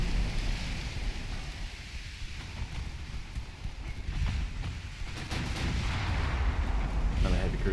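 Warship 5-inch and 2-inch naval guns firing in Ultimate Admiral Dreadnoughts, a steady loud roar of rumbling broadband blasts with rain-like crackle, thickening into denser bursts near the end.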